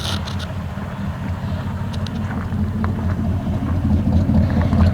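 Ford truck with a 360 FE engine pulling hard on transmission kickdown, a steady loud engine drone with rumbling low harmonics that builds gradually, mixed with road and wind noise and no talking.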